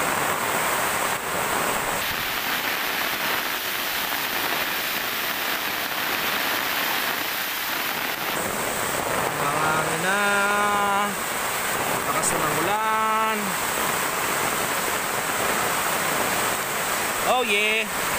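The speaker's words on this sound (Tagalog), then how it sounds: "Yung bigla lang lumakas yung ulan." Heavy typhoon rain and gusting wind roar steadily at Barangay Poblacion, Pamplona, Camarines Sur, a dense outdoor wash of noise with a voice calling out briefly over it.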